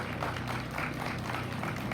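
Crowd applause at the opening ceremony of the 2018 Hohenwald Oktober Heritage Festival: steady, dense clapping throughout, with a low hum running beneath it.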